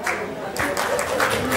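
An audience at a touring club's event applauds its committee, a loud burst of clapping and cheering crowd noise with voices mixed in.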